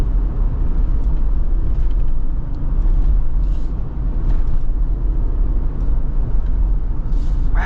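A 2025 AEV Wrangler JL370 taking a corner, heard from inside as a steady, loud low engine and road rumble that holds throughout with no break, without any talking.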